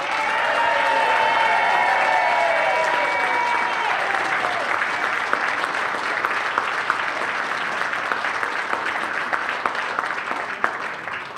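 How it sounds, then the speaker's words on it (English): A conference audience gives a sustained round of applause, a thick continuous roar of many hands with faint voices and tones early on, tapering gradually over about eleven seconds. "can we give a big round of applause to Ian and his team?"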